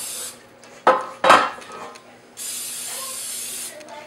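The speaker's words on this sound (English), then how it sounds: "So I'm going to spray my bowl, my pans." Cooking spray hisses onto bread loaf pans in two sharp bursts followed by a longer, steady spray, close and clear, with a few faint kitchen clatters around them.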